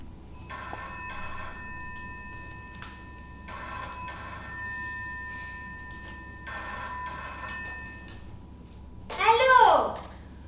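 A telephone rings on stage during an end-of-year theatre show in Paris, with three repeated electronic ring bursts in a quiet room, followed by a brief voice.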